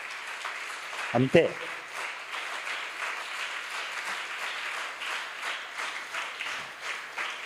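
A church congregation applauds for Father George, a sustained spread of many hands clapping at moderate distance, with a short spoken word and a sharp knock early on.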